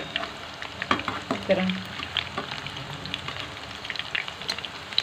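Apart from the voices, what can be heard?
seekh kebabs frying in a pan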